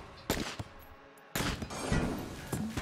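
The pox cannon in Enter the Gungeon fires in loud, short bursts, a couple of sharp blasts, a brief lull, then a denser volley of impacts close up.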